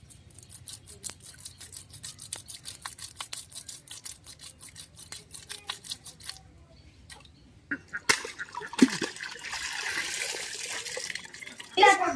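Cut Sundarbans baim eel fish is washed in water during a Bengali village cooking session, with rapid splashing and swishing early on, then a louder running-water rush, and a voice speaking alongside.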